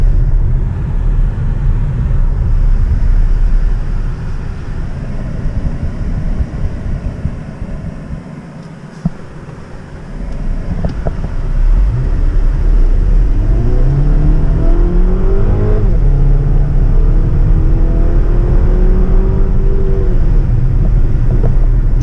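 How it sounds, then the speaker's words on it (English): A car with a small six-cylinder engine accelerates along an open road, a steady loud drone with a dip midway, then rising engine harmonics as it builds speed, with no voices. "She got a little push, that little 6-cylinder engine on her."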